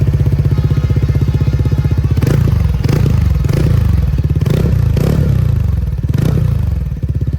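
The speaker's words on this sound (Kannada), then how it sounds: "ಹಾಗೆ ಒಂದು ಸ್ಕೂಟರ್ನ ಎಕ್ಸಾಸ್ಟ್ ನೋಟ್ ನ ನೋಡ್ಕೊಂಡು ಬರೋಣ ಬನ್ನಿ" A TVS Ntorq 150 scooter idles close by with a steady, fast-pulsing exhaust putter, then takes a few quick throttle blips that rise and fall, with no voices.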